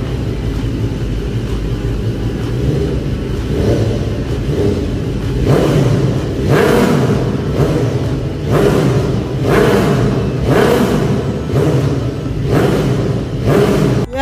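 BMW HP4 Race motorcycle with an Akrapovic full exhaust, loud and close: a steady idle rumble, then a series of sharp, evenly spaced throttle blips rising and falling.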